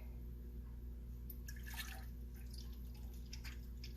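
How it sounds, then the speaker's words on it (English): Thinned liquid ceramic glaze pours into a container on a scale, a soft trickling and splashing that rises briefly over a steady low background hum, with no talk. "the glaze is much thinner now, and it pours much more easily as well"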